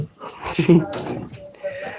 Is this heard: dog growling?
yes